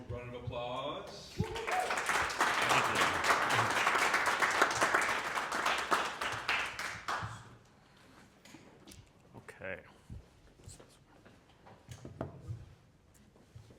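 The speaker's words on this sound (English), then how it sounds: "So let's give Arshile a warm round of applause." A live audience applauds to welcome a speaker onstage at an AGBU presentation, a dense burst of clapping that swells for several seconds and then cuts away, leaving sparse room noise and a few stray claps and murmurs.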